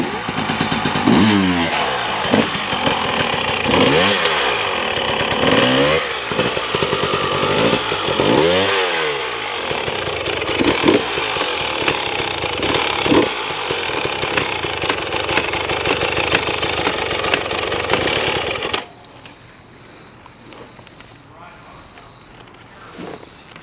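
A two-stroke 300 dirt bike engine runs close by, a raspy, crackling drone with several rising revs that then cuts off abruptly near the end, with people talking over it.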